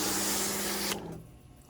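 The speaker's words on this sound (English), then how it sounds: "You try to go from a couple of different angles when you're spraying up through the louvers like that." Water sprays hard through the louvers of a Goodman air conditioner coil, a loud hissing rush that cuts off abruptly after about a second, leaving faint drips and trickling.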